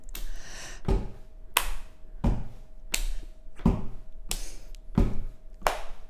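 A single person claps during a ball-bouncing exercise, with sharp, evenly spaced claps about every two-thirds of a second against a quiet background with a faint steady tone.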